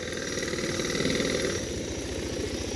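Motorbike engine idling and running steadily on a roadside during a touring trip through New Zealand film locations, a continuous low rumbling throb close by with no talk.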